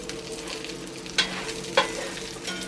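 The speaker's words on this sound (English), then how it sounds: "those are frying along nicely." Steady sizzling of pork schnitzel frying in a hot cast iron pan, close up, with a couple of brief clinks standing out over the constant crackle.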